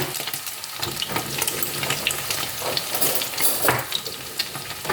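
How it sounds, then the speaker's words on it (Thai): Food frying in hot oil crackles and spits, with a dense, uneven run of splattering pops and hissing bursts that swell and fade, heard up close and with no talking. "เดี๋ยวขอทอดกันนะคะ"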